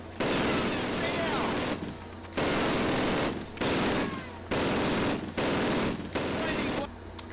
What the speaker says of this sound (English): Fire up those machine guns.